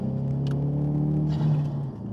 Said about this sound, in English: You just hear the boost spool up.